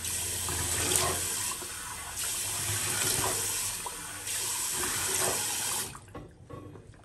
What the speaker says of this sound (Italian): Acqua fredda stavolta.